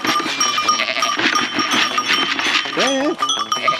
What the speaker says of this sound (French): on se retrouve avec les moutons, donc on va les rentrer pour les mettre dans une clôture.